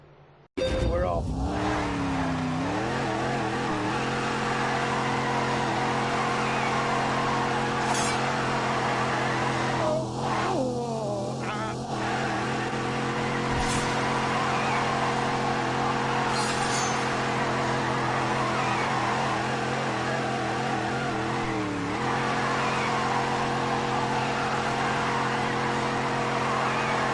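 Cars revving and pulling away inside a Detroit theatre converted into a multi-storey car park, engines droning steadily and loud throughout with brief tyre squeals and bursts of acceleration, voices talking over the noise.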